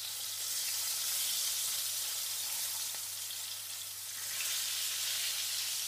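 Southern fried chicken legs and wings in a crisping coating fry in hot oil, a steady, moderately loud hiss and sizzle that continues unbroken with no talking.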